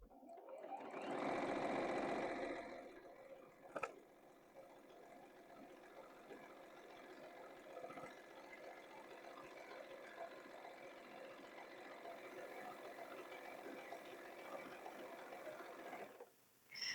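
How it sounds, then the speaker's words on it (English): A sewing machine top stitches a seam on a quilted-sleeve sweatshirt, a steady rapid whirring hum that runs for a long stretch after a brief louder rustle, quiet and with no talking. "I'm just stitching this, just this top, just top stitching."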